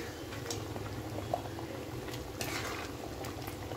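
Wedding-style chicken curry with yogurt, cashew and poppy seed paste bubbles in a pot, a soft steady simmer with occasional faint stirring clinks, fairly quiet and without talk.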